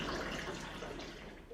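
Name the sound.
pouring filtered water into a large glass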